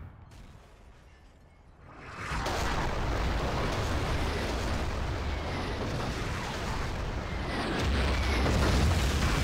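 A heavy explosion in the video game Battlefield 2 erupts after a quiet two-second lead-in, then a loud, sustained rumbling blast and debris roar fills the rest, swelling again near the end.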